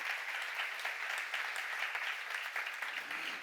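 A church congregation claps together in steady, dense applause during a sermon, a continuous patter of many hands filling the room without a break.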